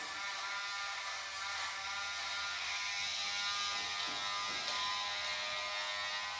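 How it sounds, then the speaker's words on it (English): A Dremel rotary nail grinder runs steadily during dog grooming and handling practice, a close continuous high-pitched motor whine with a stable tone and no talk. "Does the Dremel turn on?"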